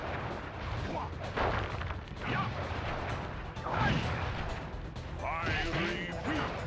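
A rapid series of crackling, popping firework explosions and whooshing bursts in the video game Sly Cooper, loud and close, with voices shouting in between.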